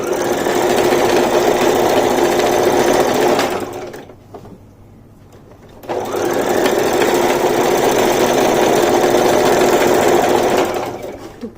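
Sewing machine running steadily as it stitches stretched elastic onto a palazzo pant waistband, loud and close, pausing briefly in the middle before resuming for a long continuous run.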